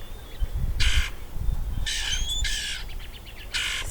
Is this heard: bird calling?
yes